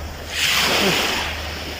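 Sea waves at the Mahboula seaside in Kuwait, a soft rushing surf that swells and lingers briefly amid steady wind noise, with no talk.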